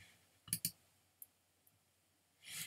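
A computer mouse clicks on a download button in a quiet room, with a quick double click followed by a couple of softer isolated clicks and a short rustle.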